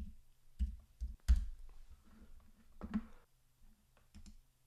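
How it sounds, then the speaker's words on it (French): Typing a search on a Mac keyboard, heard as a few soft, scattered key clicks and taps at close range with pauses between them, quiet and without talk. "je vais taper magazine pêche"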